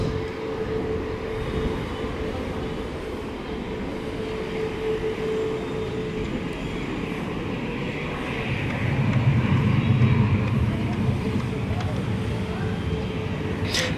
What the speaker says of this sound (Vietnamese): Và bây giờ chiếc máy bay được lệnh tiến lên đường băng 25 trái.